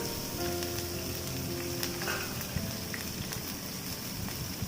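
Spices crackle and sizzle steadily as they temper in hot oil for an Andhra-style chicken biryani, a dense close hiss with scattered pops and no voices.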